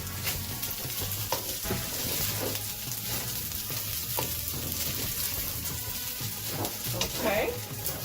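Frozen vegetables stirred into a sizzling pan for Beijing beef fried rice: steady frying hiss with scraping utensil strokes, close and continuous, with a voice talking faintly over it.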